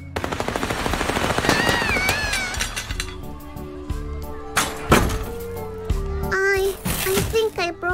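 Rapid bursts of gunfire with real bullets in the Little Misfortune video game, sharp cracks clustered early and again around the middle, mixed with game music and a child-like voice chirping over the loud, busy mix.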